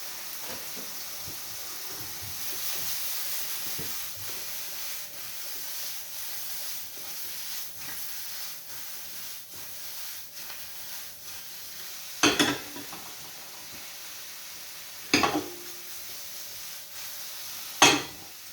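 Cherry tomatoes sizzle in an omelette pan with a steady frying hiss and soft stirring scrapes, punctuated by a few sharp clinks of a utensil against the pan.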